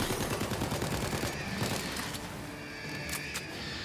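Gunfire in Tiny Tina's Wonderlands crackles as quick faint bursts aimed at the player, a rapid rattling volley early on that thins out over background game noise.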